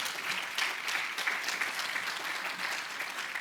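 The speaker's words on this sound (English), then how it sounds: "Can we have a round of applause for Frank?" An audience at an economic forecast forum applauds, steady clapping from many hands sustained throughout, moderately loud in an indoor hall.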